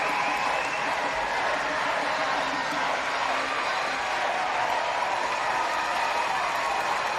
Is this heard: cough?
no